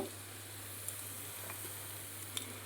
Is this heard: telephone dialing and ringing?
no